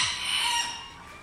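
A single rooster at a gamecock farm lets out one brief, hoarse crow up close, fading quickly at the end.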